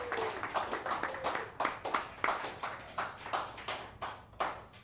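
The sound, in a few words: audience applause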